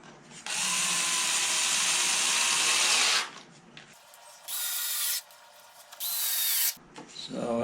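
A small power drill boring into oak for a fret slotting sled, with a long steady high whine for about three seconds, then two shorter bursts of drilling separated by brief quiet gaps, close and clear.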